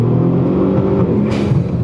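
A Ford Taurus SHO engine with boost controller bypassed roars loudly and steadily, revving up hard under full throttle with a deep rumble, then a brief rush of higher noise near the end.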